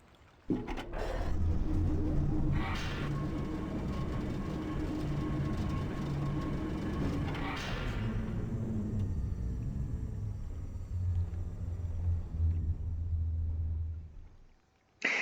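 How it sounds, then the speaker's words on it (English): A loud, steady mechanical grinding rumble of a wood chipper in the video game Riven drones on for about fourteen seconds, then cuts off abruptly. "here is what the wood chipper looks and sounds like"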